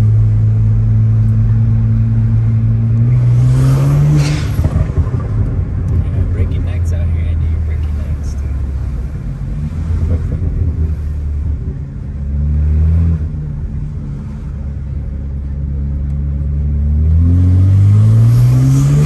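BMW 335i with the N54 engine accelerates hard through the neighborhood with a blow-off valve, a loud rumbling engine note rising and falling through gear changes, with people talking inside the car.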